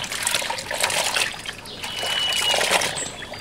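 Tie-dyed fabric rinsed in water: close trickling, sloshing and splashes that rise and fall over a few seconds, with no talk heard.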